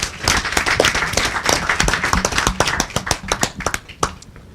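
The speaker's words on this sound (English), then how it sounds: "So let's give her a round of applause" An audience at an alumni gathering gives a round of applause, with loud, close, sharp individual claps forming an irregular burst that thins out toward the end.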